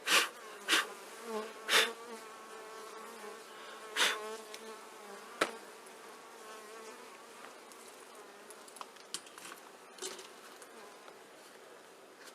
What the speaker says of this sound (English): I got about the same 5 heavy frames of bees.